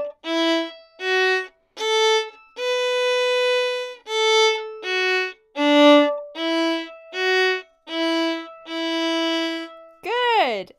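Solo fiddle playing a short phrase of the tune Mussels in the Corner, about a dozen separate bowed notes with brief gaps between them, close and clear, ending on a sliding pitch, with no talking.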